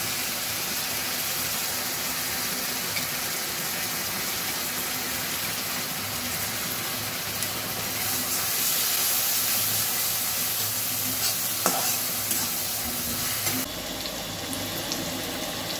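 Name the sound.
onion paste frying and being stirred in pan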